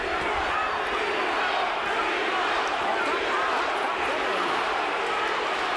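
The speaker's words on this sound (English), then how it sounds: "Crowd chanting, "B Hop."" A large boxing arena crowd chanting "B Hop" for Bernard Hopkins against Winky Wright, a dense, continuous roar of many voices at steady loudness throughout.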